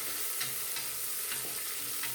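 Ingredients sautéing in a little oil for a Malabar spinach sambar with kidney beans, a soft, even sizzle broken by regular stirring scrapes, close and without talk.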